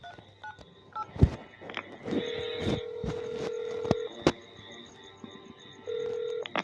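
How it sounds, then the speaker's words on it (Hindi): A mobile phone being dialed, with a run of short keypad beeps and steady tones spread across several seconds, close and fairly quiet, with no talking. "उसके कश खींचते हुए अपने मोबाइल से किसी को फोन करने लग जाता है।"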